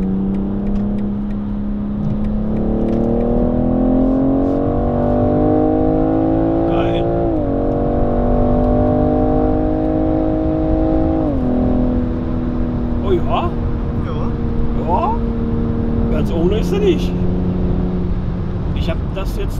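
BMW M440i accelerating hard, its engine note climbing steadily through several gears with brief dips at each shift, loud and close from inside the cabin, alone without talk.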